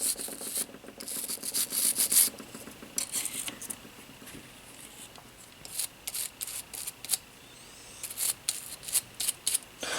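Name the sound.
toothbrush scrubbing brass residue off M1A rifle parts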